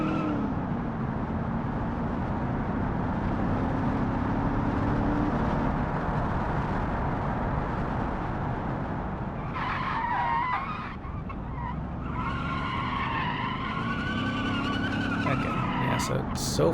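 Car lapping a track in the BeamNG driving game, with continuous engine drone and long tire skidding, while someone talks over it and a brief higher squeal rises near the end.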